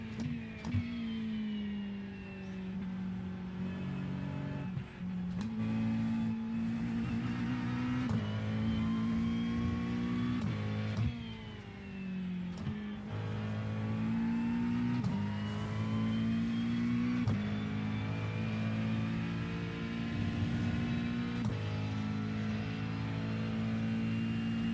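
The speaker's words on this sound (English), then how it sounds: "I need to rev out more." A GT3 race car engine in iRacing at Spa revs hard and continuously, its pitch climbing and dropping through gear changes, loud and up close, with no talking over it.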